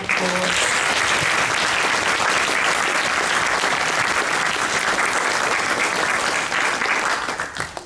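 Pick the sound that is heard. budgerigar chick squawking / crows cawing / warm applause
warm applause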